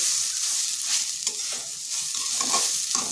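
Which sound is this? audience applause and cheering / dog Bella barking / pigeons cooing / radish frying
radish frying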